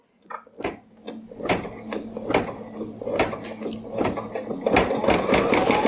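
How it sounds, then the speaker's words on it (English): An embroidery sewing machine stitches a straight line around an appliqué, its needle tapping rapidly in a loud, close, continuous mechanical rhythm that builds after a few opening clicks. "it's just sewing a straight stitch around there again"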